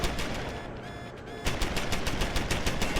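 A hacked turret firing in Deus Ex: Human Revolution, loud rapid automatic bursts close by, a brief lull, then another fast rattling burst.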